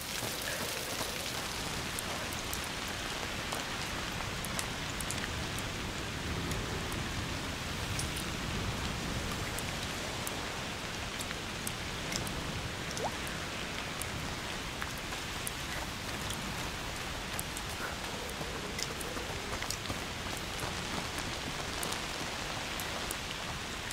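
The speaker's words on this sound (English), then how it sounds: "Rain." Steady rain falls in the video game A Plague Tale: Requiem, a dense continuous patter with scattered sharper drops, even and unbroken throughout, with no voices.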